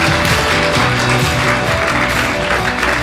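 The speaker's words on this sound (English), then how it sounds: "Let's give a round of applause for our panelists" A conference hall audience applauds panelists at the close of a competition conference session, a loud, steady wash of clapping that carries on without a break for the whole stretch.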